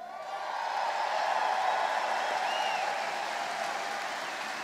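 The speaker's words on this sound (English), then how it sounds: "Thanks to this amazing crowd for this very warm welcome." A large rally crowd applauds and cheers in welcome, a dense, sustained wash of clapping and voices that swells, then holds steady.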